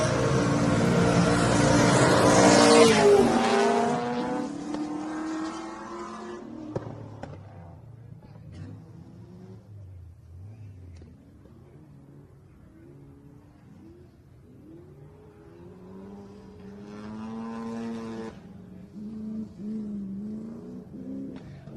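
Rally cars, including a rotary Mazda, roar and rev at high pitch on a stage of the Adelaide Hills Rally, loud at first, then fading into the distance before another engine climbs back up and revs again.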